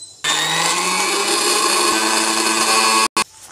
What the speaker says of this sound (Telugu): చూడండి, ఇలా మెత్తగా మిక్సీ పట్టుకోవాలి.